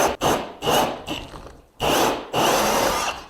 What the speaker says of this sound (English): I'm just going to drill this first hole